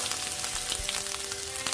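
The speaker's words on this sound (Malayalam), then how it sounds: "ഞാൻ അതിനകത്തോട്ട് നമ്മുടെ ഇഞ്ചിയും സവാള അരിഞ്ഞ് വെച്ചതും കൂടെ ഒന്ന് വഴറ്റിയെടുക്കാൻ" Chopped ginger and onion sauté in hot oil for fish cutlets, giving a soft, steady crackling sizzle with faint stirring, close and alone.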